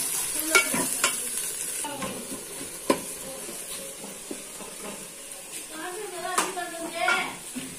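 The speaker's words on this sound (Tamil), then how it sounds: "வெங்காயம், தக்காளி, பச்சை மிளகாய் மூணையும் சேர்த்து இஞ்சி பூண்டு எல்லாத்தையும் நல்லா வதக்கிக்கோங்க" Onion, tomato, green chili, ginger and garlic sautéing in a home kitchen pan, a steady soft sizzle with repeated stirring scrapes and clinks of the utensil against the pan, some voices faintly in the background.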